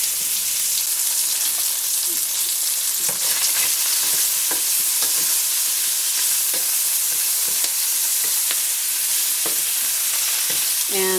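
Onions frying in a pan as the base for red wine braised beef short ribs, with a loud, continuous sizzle and occasional scrapes and taps of stirring, heard close up with no talk.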